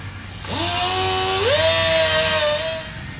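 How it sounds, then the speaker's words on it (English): A die grinder with a burr spins up to a high, close whine that climbs in pitch as it smooths metal around a broken bolt, holds steady, then winds down. "I'm gonna take my die grinder with the burr on here and try to smooth that out"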